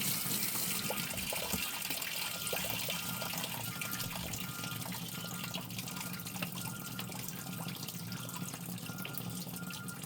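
Water gushes steadily from a tap over an agate rock from a polka dot agate mine as it is rinsed clean, a continuous close hiss and splash with slight changes in the flow and no talking.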